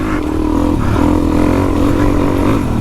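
Suzuki DRZ 400e dirt bike engine revving on a wet trail, a loud buzzing single-cylinder note rising and falling close by, with some clatter underneath.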